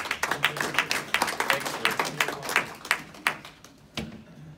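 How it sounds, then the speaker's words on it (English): Audience applause for Glenn during a talk about flying the TH-55 helicopter: a small group clapping in a loose, uneven patter for about four seconds, fairly close, tapering off near the end. "So everyone give Glenn a round of applause"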